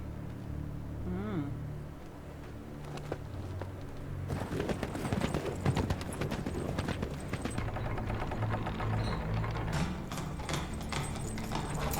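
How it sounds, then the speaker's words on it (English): A horse's hooves clip-clop as it approaches in a dramatic scene, starting faint and growing into louder, rapid, uneven hoofbeats amid background bustle. "That's my Uncle Benjamin's horse."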